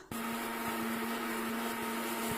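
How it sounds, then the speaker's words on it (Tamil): A kitchen mixer grinder grinds idli podi spice powder, a loud steady motor whine with a constant buzzing hum and faint rattling ticks of the dry ingredients, running continuously from start to end. "மிக்சியில் அரைச்சிக்கலாம்"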